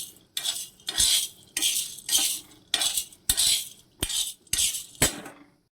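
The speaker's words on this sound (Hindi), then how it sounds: "अभी मैं भट भून रही हूँ" Bhat beans roasting in a pan are stirred in seven rhythmic scraping, rattling strokes about every 0.7 seconds, loud and close, with the beans rustling and clinking against the metal. No one speaks.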